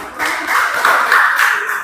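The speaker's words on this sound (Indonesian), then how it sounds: "Tepuk tangan ya." A small group in a classroom-style session gives a short burst of applause, close and fairly loud, the clapping steady for about two seconds.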